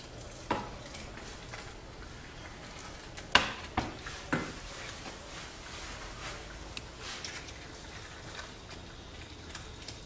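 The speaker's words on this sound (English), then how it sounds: "Keep stirring." Risotto rice is stirred with stock in a pan, giving soft scraping and a few sharper spoon knocks against the metal over a quiet bubbling sizzle, close and intermittent.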